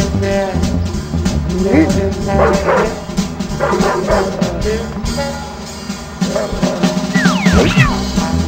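A dog in the Ed, Edd n Eddy video game barks and yips repeatedly over a dense, loud bed of game music and effects, with character voices mixed in.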